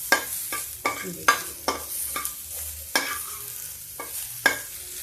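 Whole masoor dal (brown lentils) stirred and fried in a little oil in a pan, with repeated scraping strokes of the spoon and a steady low sizzle underneath, close and fairly loud, no voices.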